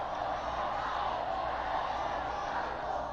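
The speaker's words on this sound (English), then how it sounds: "the crowd starts chanting, Benedicto, Benedicto," A large crowd at a papal welcome ceremony for Benedict XVI in Mexico makes a steady, distant roar of voices, the chanting blurred into an unbroken wash of cheering.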